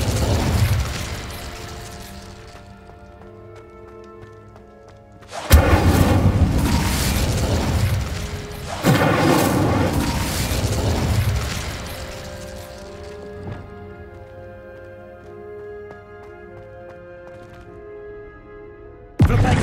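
Incendio fire spells blast in the Hogwarts Legacy video game, heard as two loud booming bursts about three seconds apart. A sustained musical score plays underneath, and another sharp burst lands at the very end.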